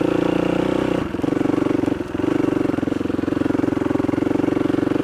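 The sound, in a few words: motorcycles riding along a trail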